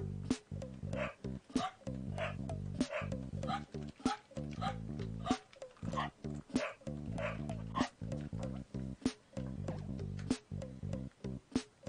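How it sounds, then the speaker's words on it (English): A cartoonish character barks repeatedly in the video game Pikuniku, short yips recurring in a quick irregular rhythm over steady game music throughout. "If my constant barking gets annoying, please tell me."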